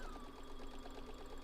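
A sewing machine runs steadily, stitching straight across the fabric of a boxed-corner bag, its rapid mechanical hum and needle chatter close and continuous with no talking.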